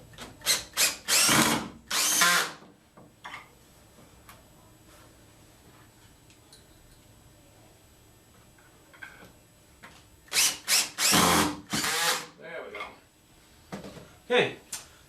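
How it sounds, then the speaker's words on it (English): A drill drives stainless steel pocket screws into the wood of a barrel chair in two loud whirring bursts, one at the start and one near the end, separated by quieter handling noises. "To hold it up on top, I'm going to use pocket screws."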